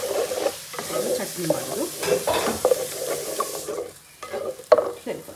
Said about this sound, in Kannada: ಇವಾಗ ಅದು ಡ್ರೈ ಫಿಶ್ನ ಫ್ರೈ ಮಾಡ್ತಾಯಿದ್ದೀವಿ